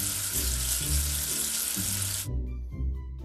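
Running water from a video game rinses soap off a letter, a bright, steady splashing rush for about two seconds that cuts off abruptly, followed by a short musical tail.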